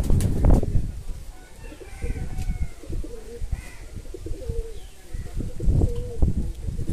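Fancy pigeons coo in repeated soft, throaty phrases up close, with a few wing flutters and light chirps mixed in and some faint background voices.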